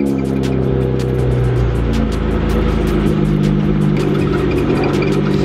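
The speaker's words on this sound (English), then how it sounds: "Let's go ahead and start this car." A BMW E30 car engine runs close by with a steady low, throaty hum and an uneven, lumpy note as it catches and revs, continuous throughout with no talking.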